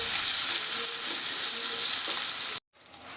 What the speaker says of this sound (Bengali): বেগুনগুলো একদম মুচমুচে লাল করে আমি ভেজে তুলে নেব